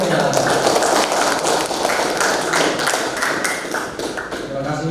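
Dense, sustained applause from an audience at a spiritual talk on St. John of the Cross, many hands clapping together for the facilitator, with voices mixed in underneath before the clapping thins out.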